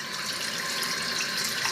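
Water pours steadily from a waterfall-style faucet with color-changing lights into a sink, a close, continuous hiss and splash with no pauses.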